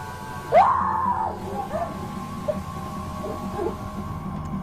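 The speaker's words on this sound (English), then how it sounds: "the woman lets out a guttural scream" A woman in a shop lets out one sharp, strained scream that sweeps upward and then trails off, followed by a faint low hum with scattered small noises in the background.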